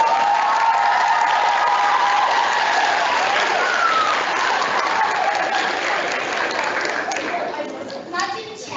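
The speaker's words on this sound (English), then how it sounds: "Let's have a big cheer to start, can we?" A school public speaking competition audience cheers and applauds loudly, a dense sustained wash of clapping and voices that holds steady before tapering slightly at the end.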